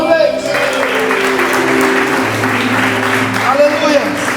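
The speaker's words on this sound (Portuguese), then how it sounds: "Aplauda o Senhor mais uma vez" A church congregation applauds during a service, a wash of clapping running beneath a loud voice and sustained tones.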